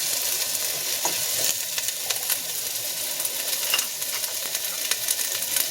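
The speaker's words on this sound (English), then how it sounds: "Just stir fry the yam." Yam pieces stir frying in about two tablespoons of oil for a vegetarian curry, a steady close sizzle broken by scraping stirs and light clinks, with no talking.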